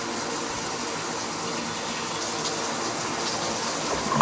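Water streams steadily from a shower head after a diverter replacement, a constant close hiss and splash that runs unbroken and alone.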